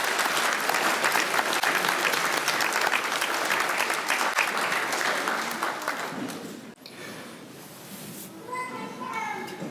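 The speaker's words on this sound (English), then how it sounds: "let's have a big hand of applause for our whole bridal party" Wedding reception guests applaud the bridal party, a sustained burst of clapping and cheering that fades after about six seconds into chatter and children's voices.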